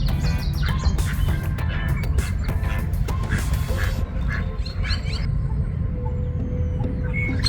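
Ducks at a park pond quack repeatedly in close, overlapping bursts, with softer bird chirps and a low steady background rumble that thins out as the calls fade near the end.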